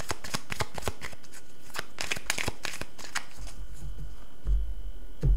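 Tarot cards being shuffled and handled, a rapid run of crisp papery flicks and snaps close by, then a brief soft rustle as the deck settles.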